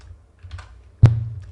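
Keystrokes on a computer keyboard while entering data in accounting software, a few soft taps followed by one sharper, louder key press, close and alone without talk.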